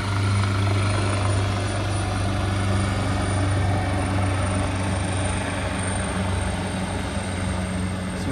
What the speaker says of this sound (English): Sorry, that was a helicopter taking off.